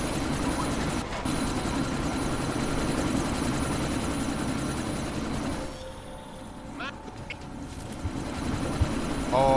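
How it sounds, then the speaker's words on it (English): Helicopter rotor blades in the video game Deus Ex: Mankind Divided churn with a heavy, steady low thrum that dominates the first several seconds, then drops away abruptly as in-game sound effects take over. "Oh, I jumped into the heli blades"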